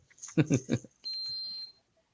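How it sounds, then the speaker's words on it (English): A smoke alarm gives one sustained, high electronic beep right after a brief burst of talking, then falls silent. "Oh, fire alarm."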